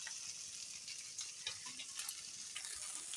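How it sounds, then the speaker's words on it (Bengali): Steady frying sizzle in a pan as rice and lentils go in for khichuri, a continuous close hiss with faint clicks and stirring scrapes, no voices. "না চালটা দিয়ে দিই চাল আর ডাল এখন একসাথে হবে"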